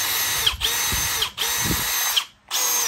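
Milwaukee M12 brushless cordless drill with a 13mm chuck, loud and close, spinning up in three separate runs of a high steady whine with short gaps as the trigger is released between them.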